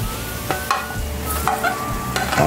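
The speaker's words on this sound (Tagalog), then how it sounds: "So dito na rin tayo magigisa ng bawang." Garlic and onion sauté in a pan for adobong takway, a loud steady sizzle broken by several sharp spoon scrapes against the pan, close up, with no talking.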